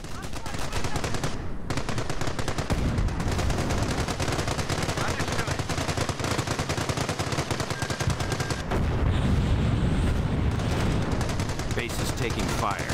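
Sustained machine-gun and rifle fire in a Company of Heroes battle at Cherbourg, a loud, nearly unbroken rattle with heavier bursts, and soldier voices calling out over the din.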